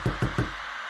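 Three firm knocks on a door at night, evenly spaced and close, followed by a quiet room tone.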